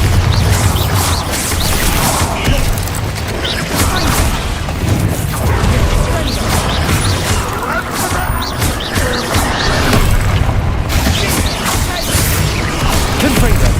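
Repeated magical blast spells in Hogwarts Legacy, played on hard difficulty: a run of booming, crashing impacts and whooshes packed close together, loud and continuous, with a voice shouting over the combat.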